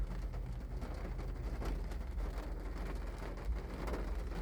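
Steady rain falls outdoors, a dense constant patter with a low rumbling undertone running throughout, no voices present.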